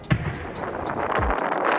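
Explosions during a military operation in the Pacific coast resort city of Puerto Vallarta, Mexico: a sharp nearby blast followed by continuous heavy rumbling and a second deep boom, with sustained loud noise and no speech.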